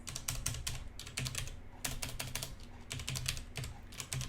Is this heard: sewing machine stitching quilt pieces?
no